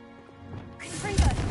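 A Bombarda blasting spell strikes in the Hogwarts Legacy video game, landing as a loud, muffled thud and crash that swells in the second half of the clip.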